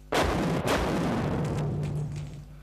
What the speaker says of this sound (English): this is the stun grenade that we use